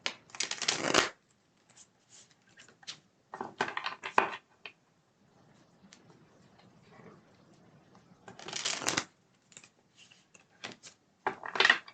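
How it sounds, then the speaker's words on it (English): Several bursts of stiff, thick cardstock tarot cards being shuffled, each a crisp riffling flutter, separated by quieter pauses with soft handling noises. "It's a very thick cardstock. They're hard to shuffle."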